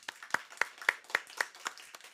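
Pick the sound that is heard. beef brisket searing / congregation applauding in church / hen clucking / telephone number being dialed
congregation applauding in church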